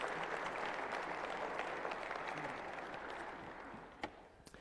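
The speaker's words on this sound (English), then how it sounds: "Yes, you deserve our applause." Steady applause from a church congregation fills the space, dense and sustained before gradually thinning toward the end, with a few sharper claps standing out near the close.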